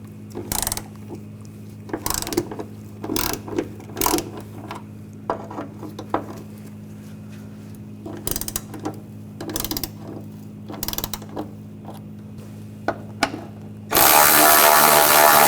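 A ratchet with a 10mm socket backs out the hood hinge bolts on a 2004-2008 Ford F-150, giving close, repeated bursts of clicking with short pauses between them and a steady wash of noise at the very end.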